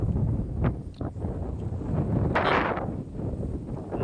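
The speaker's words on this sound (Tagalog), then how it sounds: "Malakas talaga yung hangin dito." Steady wind buffeting the microphone in an open area beside the sea, a continuous low rumble with gusty swells and a brief brighter rush midway, no voices.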